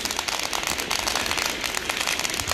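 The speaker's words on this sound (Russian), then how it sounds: "Да, это какие-то фейерверки." New Year's Eve fireworks and firecrackers in a city square, heard as a dense, continuous crackling roar of rapid pops and bursts, moderately loud and steady throughout with no talk.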